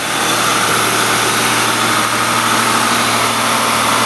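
A 1999 Ford Taurus with the Duratec 3.0 V6 idles after repair work, a steady, loud and close drone with an even, smooth rhythm and no other sounds over it.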